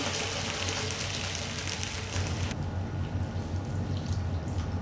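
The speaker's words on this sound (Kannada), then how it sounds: "ಇದು ನೀರು ಹಾಕ್ತಿದ್ದೀನಿ, ತೊಂಡೆಕಾಯಿ ಬೇಯಬೇಕಲ್ವ ಅದಕ್ಕೆ." Water poured into a cooking pot to boil ivy gourd in a home kitchen, a steady splashing stream that drops off sharply midway, leaving quieter running-water sound.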